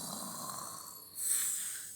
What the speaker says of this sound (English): everyone started hearing the snoring of a dog